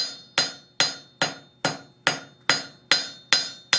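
Nine evenly spaced, ringing hammer blows flat on metal on an anvil while forging calla lily leaves, each metallic strike fading before the next in a steady rhythm.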